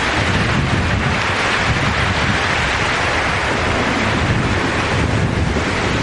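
A storm roars through remote wilderness, with heavy wind buffeting the microphone over a continuous loud wash of waves, dense and unbroken throughout.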